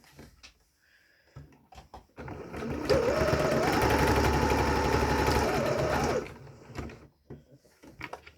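A sewing machine runs in one steady, loud burst of stitching through fabric lasting about three seconds, framed by quiet handling clicks before and after.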